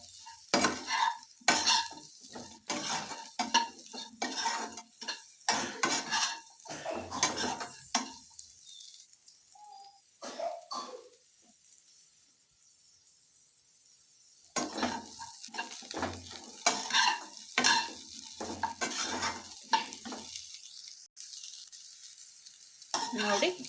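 Chicken manchurian is stir-fried in a pan with dense, rapid scraping and clattering of a spatula over a constant sizzle, pausing briefly in the middle before the brisk tossing resumes.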